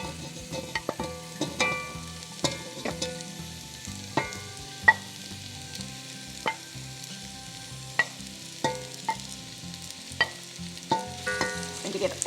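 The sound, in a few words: frying spice mix for Goan sorpotel in pan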